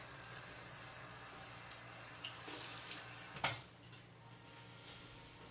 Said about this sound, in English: All you do is turn on warm water.